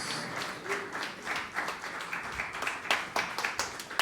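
Congregation applauding during a Sunday church service, steady scattered hand clapping from a crowd in a reverberant room, moderately loud and continuous throughout.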